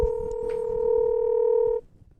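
A steady two-tone phone ringback tone sounds for under two seconds, clear and close, then stops abruptly as the call connects.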